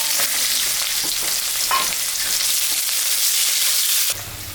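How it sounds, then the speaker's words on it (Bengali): Onion sizzles and crackles steadily in hot oil, in oil left over from frying fish with dried red chilli added, for a fish curry. The frying is close and constant, with occasional stirring and no voices. "পেঁয়াজটা ভাজা ভাজা হয়ে গেছে"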